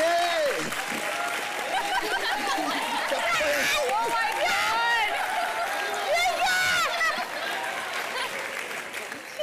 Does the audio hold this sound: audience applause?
yes